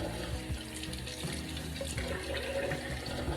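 Tap water runs steadily into a sink while makeup is washed off, a continuous close splashing flow with small shifts as hands move through it.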